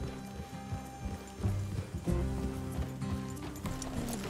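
Horse hooves clip-clop in Red Dead Redemption 2, a steady rhythm of loud, close steps over a low rumbling background, with a couple of heavier thuds midway and no talk.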